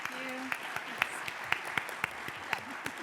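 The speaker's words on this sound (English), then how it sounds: "Let's give them one more round of applause." Scattered, fairly quiet claps from an audience at a careers-in-industry panel, thanking the speakers, coming as sharp separate hand claps at a steady rhythm over a low room hum rather than a full ovation.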